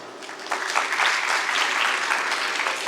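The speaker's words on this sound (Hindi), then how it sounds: "जोरदार तालियों के साथ" Steady applause from a crowd at a speaking event, dense and continuous clapping that swells slightly after the start and holds at an even level throughout.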